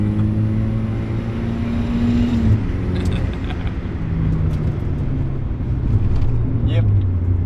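A turbocharged Mazda Miata accelerates hard on a cold street, its engine note rising and shifting through gears with a loud, close drone. People talk over the engine.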